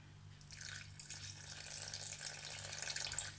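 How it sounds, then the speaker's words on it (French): Water trickles steadily from a tap into homemade chestnut cream flavoured with vanilla during blending, a close, continuous pour lasting a few seconds with no talking. "On va rajouter un petit peu d'eau."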